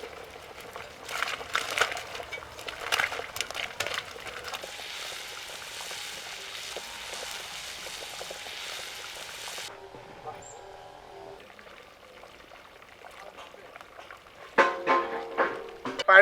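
Fish fries in hot oil in a pan, cooked village style, giving a steady crackling sizzle that later thins and quiets before a few louder clattery bursts near the end.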